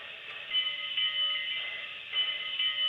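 A small electronic model locomotive bell rings steadily, a bright metallic clang repeating about every half second over a constant mechanical hum.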